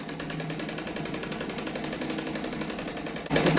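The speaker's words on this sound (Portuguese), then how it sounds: "agora eu vou passar uma costura em toda a volta dele para depois recortar" A sewing machine runs a continuous seam around the edge of a rug, a steady fast mechanical whir with rapid rhythmic needle clatter, close and fairly loud, ending in a brief louder burst.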